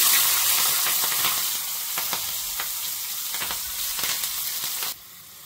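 Green chillies hit hot tempering oil for a tamarind-leaf dal, giving a loud, steady sizzle with stirring clicks. The sizzle drops sharply to a quieter hiss near the end, with no talk.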